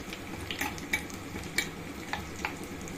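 Cashews sizzle softly in a pan for moong dal payasam, a faint frying crackle under repeated stirring scrapes and small clinks of a spoon against the pan, close and quiet with no voices.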